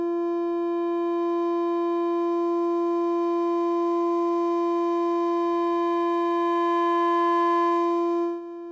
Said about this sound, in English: Here, the higher the absorb, the more internal feedback-y, Strega-y goodness you get.